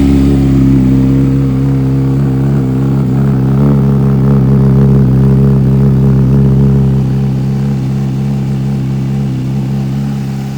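A 2025 Honda CBR600RR motorcycle with a Moriwaki Zero slip-on exhaust starts and idles loud and close with a deep, throaty exhaust burble, rising slightly in revs midway and then settling back down.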